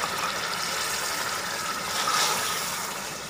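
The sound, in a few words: water poured into pot of chicken and lobia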